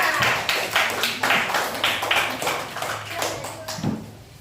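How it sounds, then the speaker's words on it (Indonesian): An audience claps for a group of presenters, several loud bursts of applause in a classroom-like room, fading toward the end, with some talk mixed in. "Kasih tepuk tangan untuk kelompok 4."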